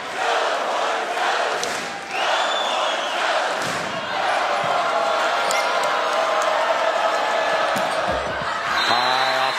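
A home crowd roars throughout a women's NCAA tournament volleyball match at Gregory Gym in Texas, a loud, dense sustained cheer that swells and holds, with a sharp whistle-like tone near the end.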